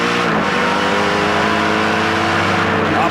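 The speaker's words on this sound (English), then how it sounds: "Up into third gear, hard on the throttle, down into second gear, gently on the brake pedal, turns on in, gently picks the throttle up." Onboard Castrol Edge Dodge race car at the 2010 GP3R 100: a loud, steady engine roar close up that rises and drops as gears change, with no talking.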